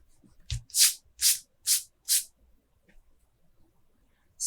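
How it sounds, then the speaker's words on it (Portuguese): A plain rubber eraser is rubbed hard over pencil graphite on paper in four quick, close scrubbing strokes, followed by quieter faint rubbing. "nós estamos passando a borracha com força, né? Para remover qualquer traço do grafite."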